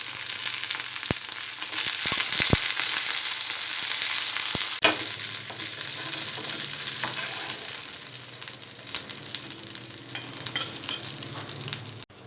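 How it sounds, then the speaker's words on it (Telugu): Green chillies fry in a pan with a steady, close sizzle, broken by a few sharp clacks of stirring early on. "పచ్చిమిర్చి కొద్దిగా ఫ్రై అయిన తర్వాత పుదీనా వేసుకోవాలి."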